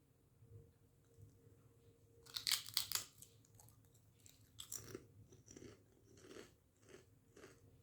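UNIBIC sweet chilli millet pop crisps are bitten and chewed close to the ear. Sharp, crunchy snaps come first, then a run of softer crunching chews in a quiet room.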